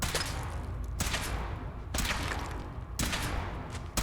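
Bursts of automatic gunfire from a power armor suit being test-fired in a video game, loud and sustained, with three rapid volleys in a row and brief gaps between them, no speech.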